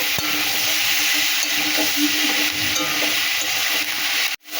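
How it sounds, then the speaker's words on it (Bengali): Vegetables including cauliflower, potato and beans being stirred in a pan with tomato, coriander stems and spices, a steady close sizzle with soft scraping of the spoon, alone until a sharp knock at the end. "আর একটু নাড়াচাড়া করে নেব"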